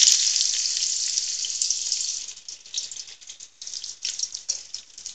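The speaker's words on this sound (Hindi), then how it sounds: "देखिए तेल हमारा गर्म हो चुका है, अब इसमें डालेंगे सबसे पहले प्याज" Onions hit hot oil in a pot and sizzle loudly at first, a bright hissing crackle that gradually settles into a softer, uneven spitting sizzle.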